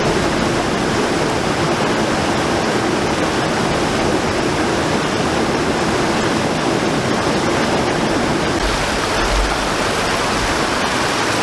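The Gweebarra river rushes down both sides of a big rock in a loud, continuous, close-up roar of churning water that fills the whole scene without pause.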